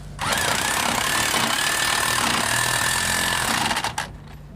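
A power tool drives half-inch expansion bolts into old masonry on a coach house renovation, a loud, steady, close mechanical drone that runs continuously for about four seconds before cutting off abruptly.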